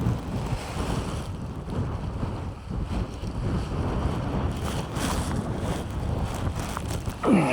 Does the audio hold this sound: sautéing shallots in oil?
no